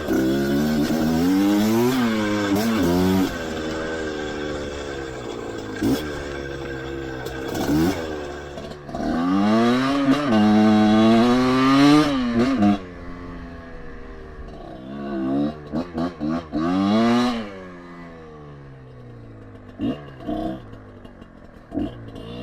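A Kayo KT 250 water-cooled two-stroke enduro motorcycle rides over grassy terrain, its engine rising and falling in repeated loud revs with brief throttle chops and crackles between them.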